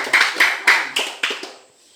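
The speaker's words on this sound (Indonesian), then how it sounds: "tepuk tangan buat Amanda" A classroom gives a short round of applause for a student: several quick, bright bursts of clapping that fade out within two seconds.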